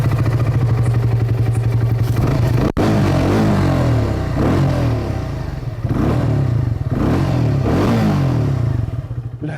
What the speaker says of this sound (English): Let us know what you guys think of the exhaust note in the comment section down below.